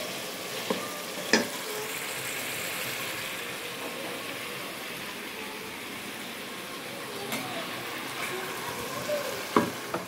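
Saffron-boiled potatoes fry in oil for biryani, a steady close sizzle with a few sharp clinks of utensils against the pan, cooked in a home kitchen alongside a copper-pot biryani.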